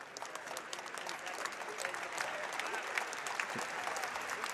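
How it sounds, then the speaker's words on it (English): Sustained applause from the Oklahoma State crowd at a college wrestling dual as an injured wrestler walks off, a dense, steady wash of clapping filling a large arena. "Nice gesture here by the Oklahoma State crowd to give Moreno a standing ovation as he walks off."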